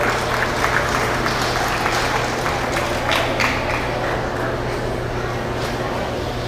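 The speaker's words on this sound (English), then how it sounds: "let's give these two young exhibitors a round of applause" A crowd at a meat goat show claps steadily for several seconds, a dense patter of applause over a low background hum.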